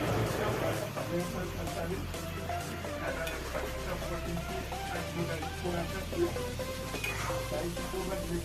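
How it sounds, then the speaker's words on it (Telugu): Raw chicken is stirred in hot oil, with a continuous close sizzle and soft scraping as the pieces are turned, while a person talks over it. "ఇట్లా మనం చికెన్ మొత్తం వేసేసుకొని ఫస్ట్ అయితే ఇలా కలిపేసుకుందామండి"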